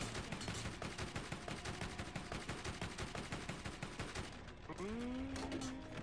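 Video game machine gun fire in Borderlands: dense, continuous rapid bursts close up for several seconds. A brief lull follows, then a rising whine.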